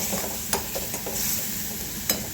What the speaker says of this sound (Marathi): असं अंदाजाने पाणी घालून घ्यायचं आहे याला एकदा छान मिक्स करून घ्यायचं